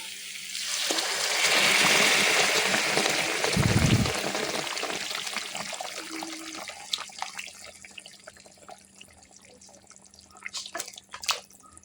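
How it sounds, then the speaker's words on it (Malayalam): Mutton gravy is poured into fried spiced masala, a rushing liquid pour swelling and fading over several seconds, then giving way to scattered drips and soft clinks. "അപ്പം അതിലേക്ക് നമുക്ക് ഈ മട്ടനിലെ ഗ്രേവി ഒഴിച്ച് കൊടുക്കാം."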